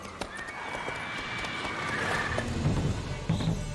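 Roach, the horse in The Witcher 3 video game, with hoofbeats clopping and a whinny rising over the game's ambient background, moderately loud and with no talking.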